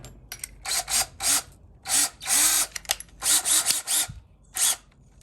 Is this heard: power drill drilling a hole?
yes